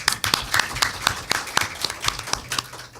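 An audience claps for a speaker at a Korean youth activity safety forum, producing a few seconds of moderate, uneven applause with distinct individual hand claps and no speech.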